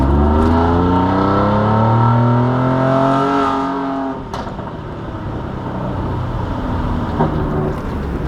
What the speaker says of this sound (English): This is why I love the Raptor exhaust.